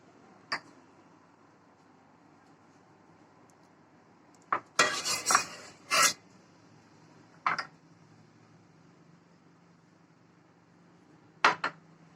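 Spatula scraping up leftover white milk pudding (muhallabia) from a pot: sparse, sharp metallic clinks and short scrapes against cookware, separated by quiet gaps, with one brief cluster of busier scraping.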